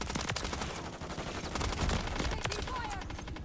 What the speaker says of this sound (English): I had to shoot his body, bro.